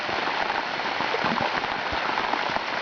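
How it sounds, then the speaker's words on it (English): Heavy rain pours onto a lake during a downpour, a loud, dense and unbroken hiss of drops striking water, close by, with no talking. "Now it's really starting to downpour."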